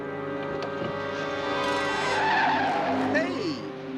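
A car with failed brakes skids hard, a long drawn tire squeal over engine roar that swells and then fades, loud and close, with a voice talking over it.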